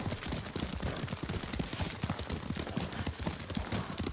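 Hoofbeats pound rapidly and continuously as a horse is ridden in Ghost of Tsushima, a dense galloping rhythm with loud, close thuds over a noisy outdoor backdrop.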